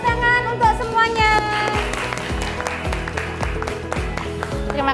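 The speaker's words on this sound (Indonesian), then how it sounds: "tepuk tangan untuk semuanya." Students in a classroom clap together, with loud rhythmic strikes over strong music-like tones and children's voices throughout.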